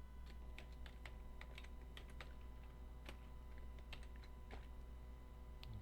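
Typing on a computer keyboard while entering script code into a Drupal 8 site, with scattered quiet key clicks in an irregular rhythm over a steady low hum.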